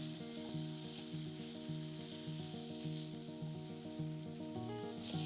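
Onion cubes and capsicum frying in a pan give a quiet, continuous sizzle close by, with a sustained tonal hum running steadily underneath and no voices.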